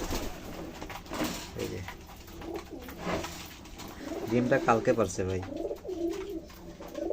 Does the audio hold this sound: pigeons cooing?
yes